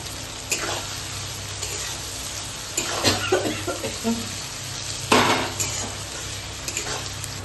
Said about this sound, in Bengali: এটাও আর একটু ভেজে নেবো রসুনটা আর টমেটোটা